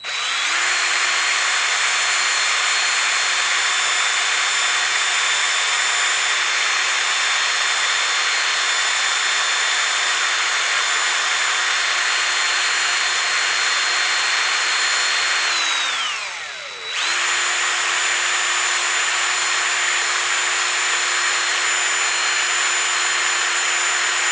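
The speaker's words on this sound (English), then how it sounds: "I do have my drill on high speed, and I'll start burnishing it." A high-pitched power drill burnishing the edge of a leather bandana slide whines steadily at high speed, briefly slowing and dipping near the end before spinning back up to a constant drone.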